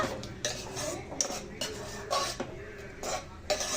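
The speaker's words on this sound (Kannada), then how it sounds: "ಇದನ್ನ ಒಂದು 5 ನಿಮಿಷ ಮಸಾಲೆನ ಹೀಗೆ ಫ್ರೈ ಮಾಡ್ಕೊಳ್ಳೋಣ" Masala being fried and stirred in a pan for menthya bath, with a metal spoon scraping and clinking against the pan in repeated strokes, close and moderately loud, with a faint frying hiss underneath.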